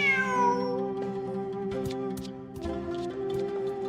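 A cat in Genshin Impact gives a drawn-out, wavering meow that rises and falls, loud and close, followed by further tonal mewing and light ticking clicks amid steady game background tones.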